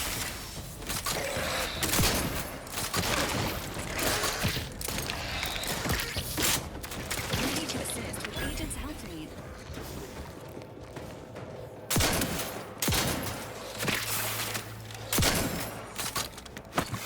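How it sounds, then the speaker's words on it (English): Gunfire in The Outer Worlds 2 combat, repeated sharp shots and bursts spread across a long stretch, mixed with mechanical clanks and creaks under steady game noise. "Let's continue on and shoot some dudes."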